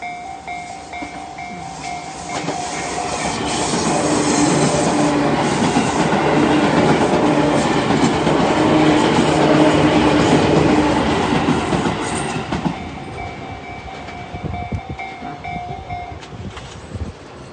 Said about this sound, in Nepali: ट्रेन आउने बेलामा चाहिँ यसरी गाडीहरू रोकिन्छ। यताबाट ट्रेन आउँदैछ।